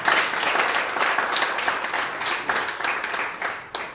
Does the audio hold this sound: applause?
yes